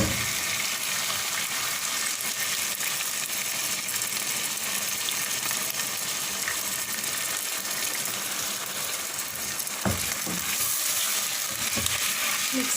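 Whisked yogurt stirred into golden fried chicken in a hot pan, giving a steady broadband sizzle and frying hiss with a brief clatter near the end, no talking.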